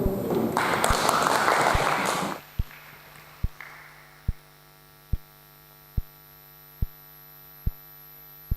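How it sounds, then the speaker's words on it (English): A short burst of audience applause at an international summer course session fills the first two seconds and then cuts off, leaving a steady mains hum with regular soft clicks. "Can we give a big applause to"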